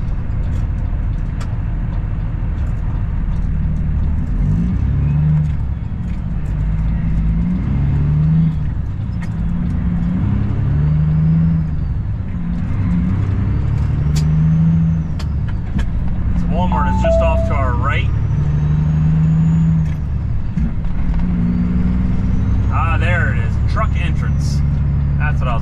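A semi truck's diesel engine drones steadily from inside the cab as the rig drives and maneuvers around to the back of a grocery store to park, with someone talking over the low rumble.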